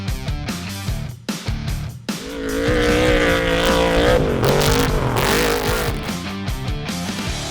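Off-road racing truck engines roar loudly at a motorsport event over jumps and sand dunes, revving hard and swelling to a sustained, close, full-throttle blast before easing slightly.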